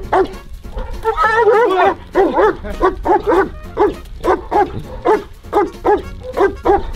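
A military working dog barks repeatedly in a steady series of loud, close barks, with a whine-like yelp early on, at an army training site.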